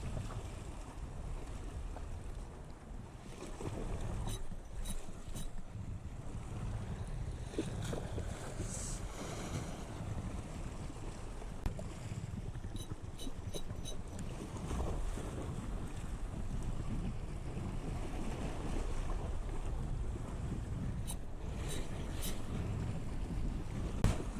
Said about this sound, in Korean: 파도도 좀 치네요